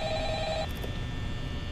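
A telephone rings in the Five Nights at Freddy's video game, a short electronic ring tone that cuts off partway through over steady game background hum, with no talking.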